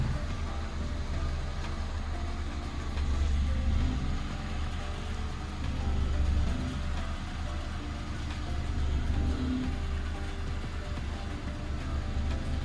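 A Citroen C1's small engine idles with a steady low rumble, close and even, with slight swells in loudness and no voices.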